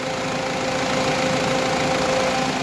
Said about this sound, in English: Right, give it a rev this way.